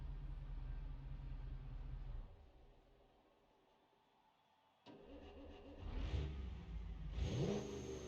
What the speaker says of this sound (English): Let's go ahead and give that engine a listen to starting up.